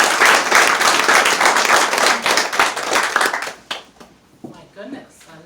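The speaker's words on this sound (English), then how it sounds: "Please join me in giving Marlene a warm round of applause" Warm applause from the crowd at a Women For Biden coalition evening event, loud and dense clapping that tapers off into scattered claps and a few voices.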